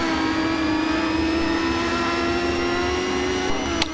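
A race car engine in a racing video game holds a steady high whine with a brief rise in pitch near the end, loud and close with no talking.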